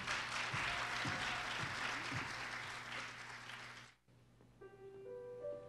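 An audience at a Rotary performing arts competition gives a contestant a dense, steady round of applause for about four seconds, then it cuts off abruptly and soft piano notes begin.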